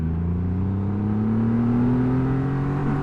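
A 2020 Triumph Rocket 3R motorcycle engine pulls steadily in second gear, a loud close drone whose pitch climbs smoothly throughout, heard alone.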